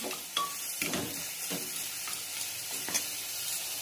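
Mutton pieces fry and sizzle in a pan for mutton soup, with a continuous hiss broken by a few scraping stirs and light clinks of a utensil against the pan, close by.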